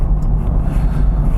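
Land Rover Defender D240 diesel accelerating on the road, a steady, close low engine rumble with road noise filling the short stretch evenly.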